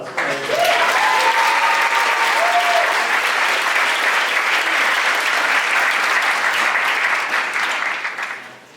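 A concert audience of the LolliPOPS group bursts into sustained applause that swells quickly, holds loud and dense for several seconds, then fades out, with a voice briefly at the start.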